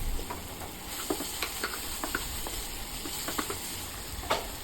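Minced pork stir-fried for southern Thai khua kling, a steady soft sizzle with light scraping stirs and small spatula clicks, close and fairly quiet, no talking.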